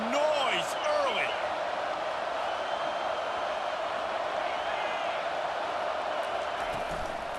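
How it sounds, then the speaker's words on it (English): Steady stadium crowd roar from a packed college football crowd in an EA Sports College Football 25 game, Michigan against Wisconsin, with a few whoops and whistles near the start, holding loud and constant throughout. "This crowd bringing the energy and noise early."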